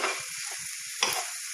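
Chicken roll filling with capsicum and onion fries in a pan over medium heat, producing a soft, steady hiss with a few light stirring clicks in a brief stretch.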